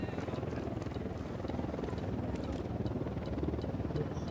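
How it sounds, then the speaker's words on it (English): Enemy helicopter lifting off in Ghost Recon Wildlands, a steady thudding rotor drone with a dense low buzz, moderately loud and continuous throughout. "they've just launched the helicopter from up there."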